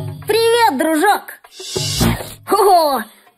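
A cartoon bus gives one loud, breathy sneeze, voiced by a performer, between drawn-out vocal wind-up sounds before and after.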